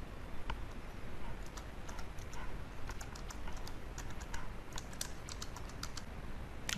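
Login details typed on a computer keyboard for an SFTP backup setup, a steady run of quick, light key clicks over a low background hum, with no voices.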